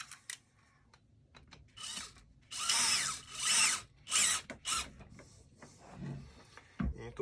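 A power drill drives screws back into a Karcher K4 pressure washer in several short bursts of whirring, each ending with a brief pause. Clicks and handling sounds fill the gaps, and the whole is fairly quiet and close.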